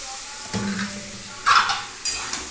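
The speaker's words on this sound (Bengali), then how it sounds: "কচু শাকটা ভালো করে মিশিয়ে দিচ্ছি" Taro leaves with fried chickpeas are stirred in a hot pan, giving a soft, continuous sizzle broken by a few sharp scraping strokes of the utensil, up close.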